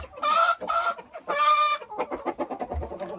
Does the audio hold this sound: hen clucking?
yes